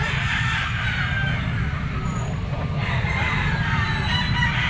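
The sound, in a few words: white Kelso Henny gamefowl rooster crowing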